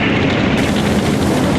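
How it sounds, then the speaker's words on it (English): A V-2 rocket explosion, a loud, sustained roaring blast of dense rumbling noise that fills the whole moment without any quieter gaps. "Hard on the heels of the V-1 came the much more sophisticated V-2 rocket."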